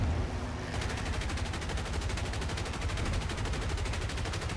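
Bomber gunners in a War Thunder RAF Lincoln formation fire rapid, continuous machine-gun bursts, a dense rattling stream of shots that runs steadily through the whole clip.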